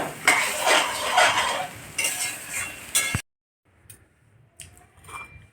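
A pot of vegetable curry with chickpeas, peas and potato is stirred up close, with busy scraping and clattering for about three seconds, then near silence broken by a few faint clinks.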